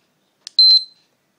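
A Gymboss interval timer sounds its alarm: a short chirp, then a sustained high-pitched electronic beep lasting about a quarter second before cutting off, clear and close in an otherwise silent room.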